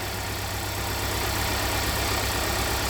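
A Kia or Hyundai engine idles with a cylinder misfire, a close, continuous rumble with an uneven low-frequency pulse running throughout.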